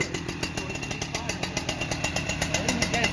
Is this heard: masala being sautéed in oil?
no